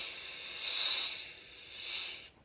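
A single voice imitates wind with a soft, breathy shh, swelling and fading in two long waves, close and fairly quiet, with no other sound.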